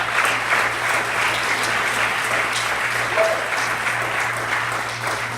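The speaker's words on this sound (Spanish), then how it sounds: "Vamos a darle un fuerte aplauso al Señor" A congregation at a church discipleship gathering gives sustained, strong applause. The dense, even clapping runs throughout at a steady level over a low hum.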